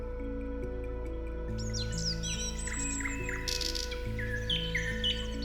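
Several migratory birds, including herons, flamingos and cranes, chirp and call overhead in Iran against a steady low droning background, their sharp tweets scattered and overlapping.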